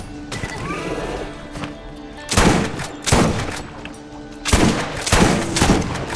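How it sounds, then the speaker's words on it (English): A Dahl shotgun fires in the video game Borderlands 1, booming in loud blasts that come in two close pairs over a steady game background hum. "how did I screw that up? With a Dahl shotgun."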